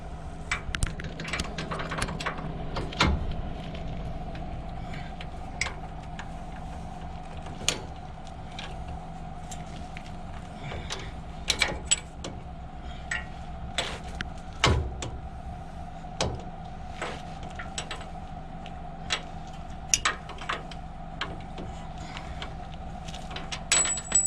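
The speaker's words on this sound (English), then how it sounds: "So now what I did is I grabbed the ratchet with the 19mm" A 19mm socket ratchet turns a strut bolt on a 2003 Tacoma 4x2, giving scattered sharp metallic clicks and ticks over a steady low hum in a garage.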